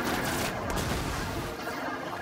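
Gunfire in Destiny, a dense, muffled barrage of overlapping shots that fills the moment continuously at moderate loudness, sounding somewhat distant.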